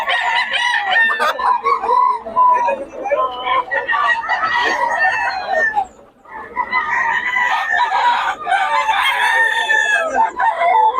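Roosters at a backyard breeder crow repeatedly, loud and close, mixed with clucking fowl and a brief lull in the middle, with faint voices in the background.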